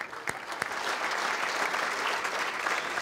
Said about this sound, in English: a round of applause for a great win last night